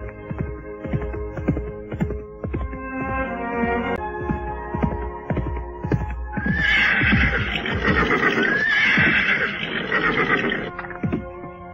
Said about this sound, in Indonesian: 2 ekor kuda telah berderap dengan cepat dan kemudian berhenti di sebuah persimpangan